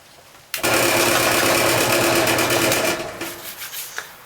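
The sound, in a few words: drill boring holes in rattan for a chain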